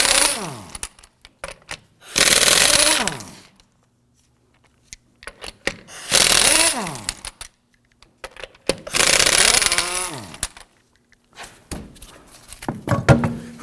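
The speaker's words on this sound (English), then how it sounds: "Using a 19mm socket, we're going to loosen and remove the lug nuts." Impact wrench with a 19mm socket loosening and spinning off lug nuts on a front wheel of a 2008-2011 Ford Focus, loud repeated bursts of hammering whir with pauses and smaller clicks between.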